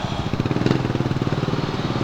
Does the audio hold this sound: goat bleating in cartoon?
no